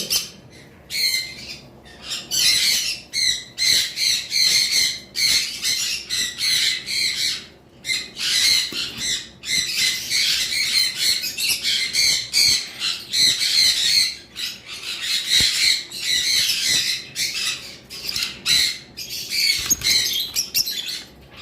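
A pair of red-headed birds (red-headed lovebirds, kept together in a clay pot at a bird farm) give repeated loud, shrill squawks in rapid bursts, close and continuous.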